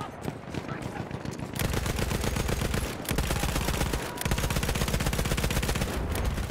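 Rapid automatic gunfire in a shooter video game, sustained bursts of machine-gun fire, loud and continuous with only brief pauses between strings of shots.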